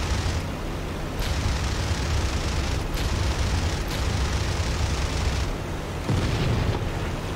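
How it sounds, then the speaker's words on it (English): Repeated booming explosions in a VR dogfighting video game burst over a dense, noisy background, several sharp blasts spaced a second or two apart, loud and close. "They do, lots of explosions."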